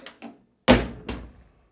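A classic Porsche 911 door being shut against its latch and striker, with two faint taps followed by a solid loud thunk and a second, softer thud.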